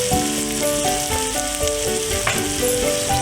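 Onions frying in a pan for an Andhra-style egg curry, a steady close sizzle with occasional stirring clinks over a continuous bed of crackle.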